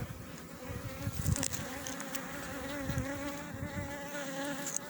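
Dense, steady buzzing of many honeybees close by, a continuous hum with wavering pitch and occasional louder passes, no voices.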